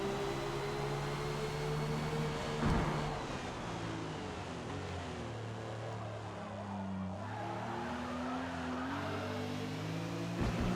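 A '75 BMW 3.0 CSL race car at Suzuka in Forza Motorsport, with its engine droning steadily and tires squealing and scrubbing through corners, the wavering pitch rising and falling close up, with no talk.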